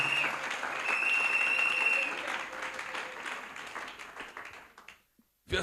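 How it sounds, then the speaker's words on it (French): A church congregation at a Sunday service applauds, a dense burst of clapping that holds strong, then thins and fades out near the end. "Que quelqu'un acclame Jésus."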